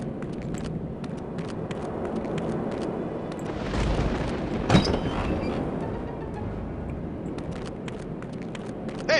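Dum-dum rounds fired in No One Lives Forever: a continuous rumbling barrage of gunfire and booms with a stronger burst midway, steady and fairly loud throughout.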